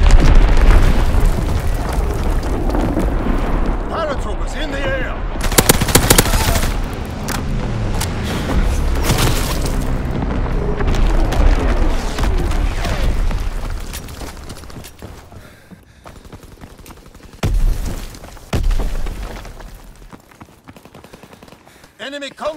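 An artillery barrage in Call of Duty WWII: repeated heavy booms and explosions mixed with machine-gun fire, loud and continuous, with a voice talking over the battle.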